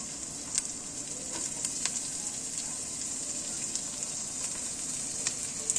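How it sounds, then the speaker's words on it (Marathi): Cumin seeds fry in hot oil with a steady bright sizzle and scattered small pops and crackles, close and continuous throughout, without any voices. "तर अशा तऱ्हेने जिरा ही आपला फ्राय होतोय।"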